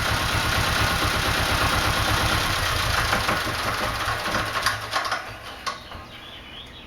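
A Volvo MD7A marine diesel idles with a steady rapid chug and rough knocking beat, close and loud, then the engine is shut off near the end and the rhythm falters and dies away.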